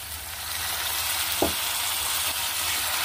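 Soy sauce poured into a veg manchurian sauce frying in a pan, a steady sizzle with a brief louder hiss as the liquid hits the hot pan.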